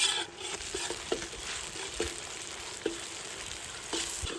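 Ginger garlic paste sizzling in a pan while chicken Kolhapuri cooks outdoors near a river, a steady crackling fry with light stirring scrapes and scattered pops.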